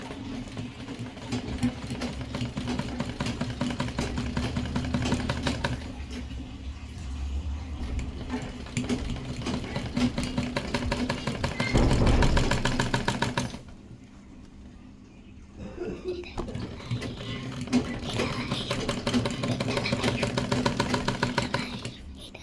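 A sewing machine stitches a sleeve in long, rapid bursts of mechanical whirring and clatter, pausing briefly before starting up again, with no one talking.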